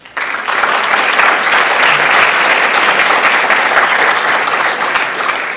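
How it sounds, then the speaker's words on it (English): An audience gives a sustained round of applause at a live event before a stage play begins, dense clapping that swells quickly and holds steady at full volume throughout, with no talk over it. "So I'd like to give them a round of applause."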